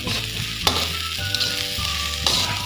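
Shrimp and egg fried rice sizzles steadily in a hot pan, with stir-frying scrapes and a few sharp clanks of the utensil against the pan, close and continuous with no talk.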